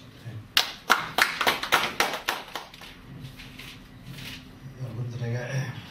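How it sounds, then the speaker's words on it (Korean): An audience at a forum gives brief applause to welcome a speaker: a burst of scattered claps in the first half that fades out, followed by faint murmuring. "여러분 뜨거운 박수로 환영사를 해주시라고 박수로"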